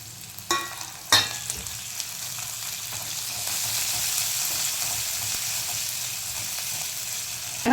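Cumin is frying in oil, and then a chili, garlic and ginger paste goes into the pan. Two sharp spatters are followed by a loud, steady sizzle that swells and holds close by, with no voices.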